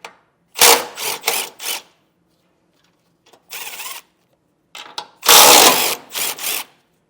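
A ratchet fitted with a deep well 15 mm socket loosens bumper fasteners on a 2021 Volvo during a Curt Class III trailer hitch install. It gives close, loud clicking bursts: a quick trio, a lone burst, then a longer run, with no talk.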